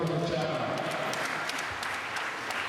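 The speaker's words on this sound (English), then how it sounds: "A round of applause to the Chairman." An audience at the NCAC 40th anniversary celebration in Edo zone claps for the chairman, giving a dense, steady burst of applause that eases off slightly and mixes with voices.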